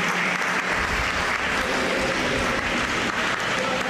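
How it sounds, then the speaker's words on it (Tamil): Crowd at a temple consecration ceremony of a Nagarathar community association in Madurai applauding continuously, a dense, even wash of clapping at moderate distance. "நல்ல ஒரு கைத்தட்டல்களை கொடுக்கலாம்."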